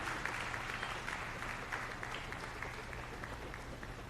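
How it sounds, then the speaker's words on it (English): A crowd at a Ghanaian public gathering applauds to welcome the Minister for Information, a continuous, somewhat distant wash of clapping over a low background hum. "With a round of applause, let's welcome the Honorable Fatima Abubakar, our very own Minister for Information."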